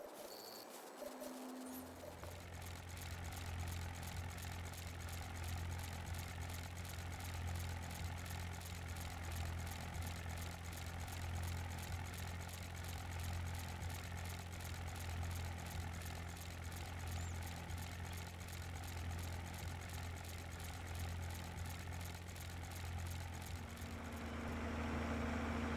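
Tractor engine in Farming Simulator 22 starting up and then running with a steady, loud, low droning idle that holds unchanged for over twenty seconds, no talking.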